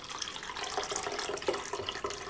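Warm water poured into a bowl for a Greek lagana flatbread dough, with sugar, giving a steady trickling splash at close range, alone with no talk.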